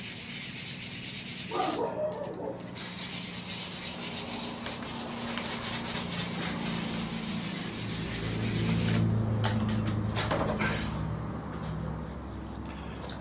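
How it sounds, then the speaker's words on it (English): Sandpaper rubs continuously against a light 4 mm carbon fibre tube, a close, steady scratchy scouring with brief pauses and changes of stroke. "just going to rough it up with a bit of sandpaper"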